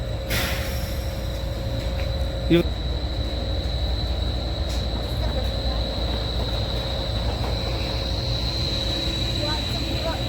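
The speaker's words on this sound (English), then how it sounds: "train is traveling." Steady low rumble of a train in motion, a continuous drone with a faint tonal whine and a brief clank partway through.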